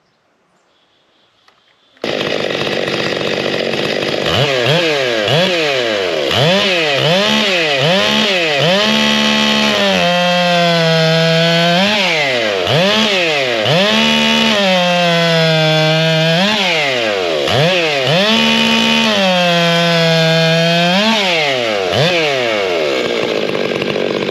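A Stihl MS661 chainsaw fitted with a big bore forged 58mm piston kit starts abruptly, then roars very loud and close for over twenty seconds, its engine pitch rising and falling repeatedly as it revs and bogs through log cuts.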